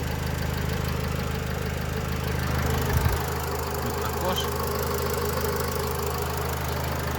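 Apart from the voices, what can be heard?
Nissan Primastar 2007 2.0 diesel engine idling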